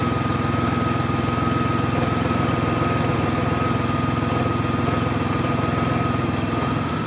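A truck engine idles steadily as the truck pulls up close to a wall, a continuous low rumbling drone with no change in pace and no voices.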